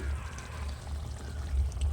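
Water pours into a pot of crab curry cooking at home, a steady low pouring rush lasting a couple of seconds, close and moderately loud with no talking.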